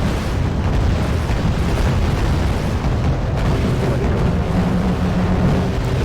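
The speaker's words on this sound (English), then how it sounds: "Here come the missiles from the Nanushkas" Missile strikes exploding on ships during a naval battle in Wargame: Red Dragon, with South Korean forces facing Russian Nanuchka-class boats; a dense, continuous roar of booming blasts and rumble fills the whole stretch at high loudness.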